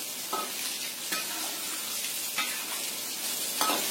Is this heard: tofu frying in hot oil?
yes